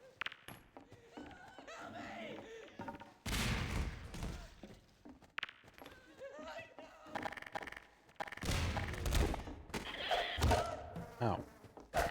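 Grenade explosions in Half-Life 2 go off as several loud, broadband blasts spread across the stretch with quieter game noise between them and no talking.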